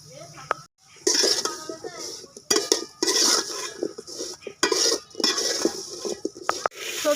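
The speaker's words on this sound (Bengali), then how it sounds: "সবজিগুলো একটু হলুদ আর লবণ দিয়ে ভেজে নেব।" Vegetables fried with turmeric and salt for veg pulao, heard as bursts of a spoon scraping and clattering against the pan between short pauses, close and fairly loud, with some voice in the background.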